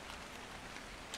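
Rain in the video game Ark Extinction, a faint, steady hiss of falling drops with occasional soft patters, continuous and without voices.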